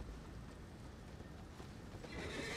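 Horse in the video game Elden Ring, a steady clip-clop of hooves with a whinny, fairly loud and continuous, brightening toward the end.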